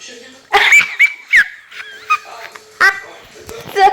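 A dog gives short yips and whimpers in close bursts, and some high whines are mixed in. People talk around the dog's sounds.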